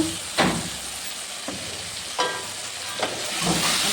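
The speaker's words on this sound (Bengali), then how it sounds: "ভালো করে ভেজে নেড়ে নেব।" Cashew paste and ginger fry in a pan under a constant sizzle, with four sharp scraping bursts as a utensil stirs the mixture at irregular intervals, close and fairly loud.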